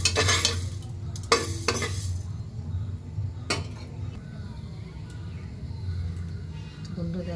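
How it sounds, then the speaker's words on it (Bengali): Dal dry-roasting in a hot, dry pressure cooker, with sharp scraping and clinks of a spoon stirring against the metal over a low background hiss while a voice talks. "শুকনো খড়ায় এগুলো ভালো করে ভেজে নেব"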